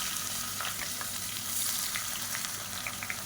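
Long-sliced large onions sizzling in hot oil with whole spices for biryani, a steady bright crackle with small pops throughout, close and continuous with no talking.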